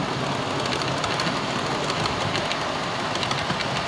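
A model railway Class 47 locomotive runs on a home layout near the fiddle yard, giving a steady, continuous rolling rumble and hiss with faint rhythmic clicking throughout.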